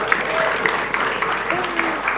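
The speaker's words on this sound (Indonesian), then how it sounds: "Baik, tepuk tangan buat Dewan Juri." Audience applauding the jury at a high school quiz contest, a steady mass of clapping with brief voices mixed in beneath it.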